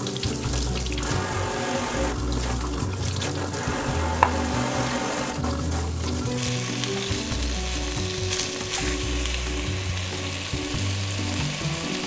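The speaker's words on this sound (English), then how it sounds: "Start off by sauteing 3 strips of bacon" Three strips of thick-cut bacon sauté in a pan with a steady, close sizzle, mixed with running-water and faucet-like sounds and a low repeating hum throughout.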